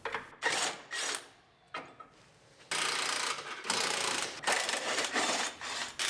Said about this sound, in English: Unbolt our clamps.